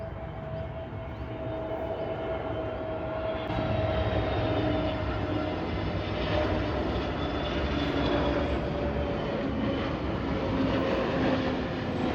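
An airplane passes overhead, a steady roaring drone that swells and holds loud for several seconds with a thin whining tone riding on top, no voices over it.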